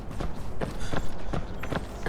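Footsteps in the Marvel Rivals video game: a series of regularly spaced thudding steps, about five of them, at moderate loudness over a steady game background.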